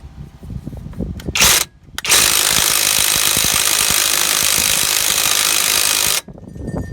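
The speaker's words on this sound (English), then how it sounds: "now you're going to reverse your drill and you're actually going to put the nut back on." A power drill run in reverse to thread a nut onto the threads during 2014 Avalon front wheel bearing work whirs loud and close for about four seconds, preceded by a short burst and some clattering handling noise.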